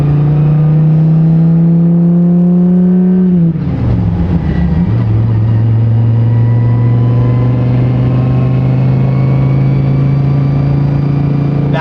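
Corvette sports car engine revving hard through a gear change: a loud, steady rising engine tone cuts off briefly, drops, then resumes at a lower pitch and holds strong.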